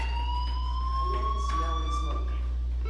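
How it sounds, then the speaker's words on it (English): A steady electronic fire alarm tone rings continuously inside the Life is Strange video game, holding a sustained pitch with a low background hum and faint sounds in the scene. "do you hear that fire alarm?"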